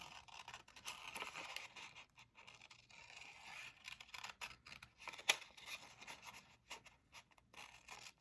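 Scissors cut out a simple paper design, giving faint, close, repeated snips and scraping rustles in a quiet room.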